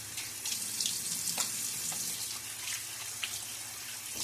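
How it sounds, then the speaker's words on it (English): Water runs from a bathroom tap into a sink during a straight razor shave, a steady close hiss with small splashes throughout, no talking. "A little splash of water now."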